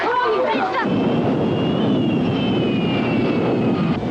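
A film airliner with an electrical problem and a fire on board makes an emergency landing on a short runway. A loud, steady jet engine roar runs throughout, with a high whine drifting above it.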